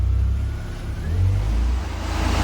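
A Ford Orion ST170 conversion runs on a rolling road, its engine holding a loud, steady drone close by with a slight swell in revs midway and no voices.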